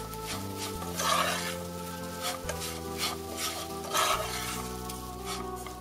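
Fine bulgur, salt and black pepper are stirred in a pan with cooked ground meat, giving a soft frying sizzle with rhythmic scraping strokes every second or so over a low cooking hum.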